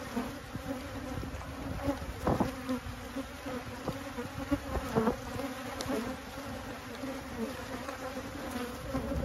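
A crowded honey bee hive that is close to swarming hums with dense, steady buzzing, close and even, with a few light knocks and bumps scattered through and no talk.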